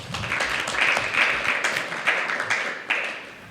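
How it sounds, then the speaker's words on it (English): A small audience at a talk on veganism claps for a questioner, a short uneven burst of nearby hand claps with distinct individual strikes standing out. "Let's give him a round of applause."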